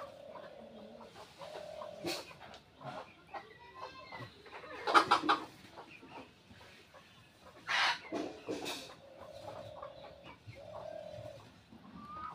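Small backyard chickens clucking in short, uneven bursts from close by, with a few louder rustling and scuffling noises scattered between the calls.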